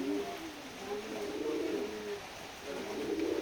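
Pigeons cooing at a village pigeon farm, soft repeated throaty coos overlapping in a low, steady murmur, faint and close with no talk.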